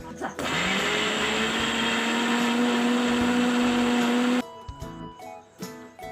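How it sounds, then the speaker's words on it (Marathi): Kitchen mixer grinder blending corn kernels, a loud steady high-pitched motor whine with grinding rattle running for about four seconds, then cutting off to quieter handling clatter. "हे दाणे आपल्याला मिक्सरमध्ये फिरवून बारीक करायचे आहे"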